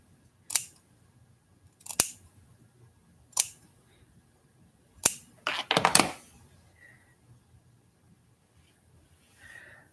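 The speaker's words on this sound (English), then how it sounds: "And then we're going to just carefully snip the backing." Scissors snip through the backing of fur fabric for a Christmas costume craft, about five separate close, crisp cuts spaced a second or so apart, the last a quick burst of several snips.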